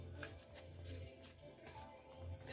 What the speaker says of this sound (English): Let's hope I can get a card in that shuffle for so long, because I never usually do live shuffling